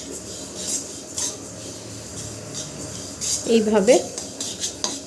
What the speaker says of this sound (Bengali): ভালো করে তিলটাকে ভেজে নেব।